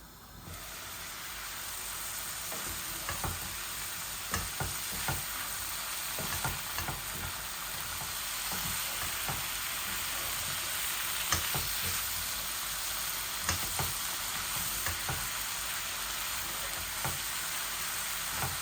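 Ingredients for tilapia curry frying in a pan, with a steady broadband sizzle running throughout while a spoon scrapes and stirs in irregular strokes, close to the microphone and without voices.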